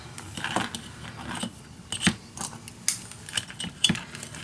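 Scissors cutting paper for a handmade mini album, a series of short crisp snips and rustles spaced irregularly across a few seconds, close and fairly quiet.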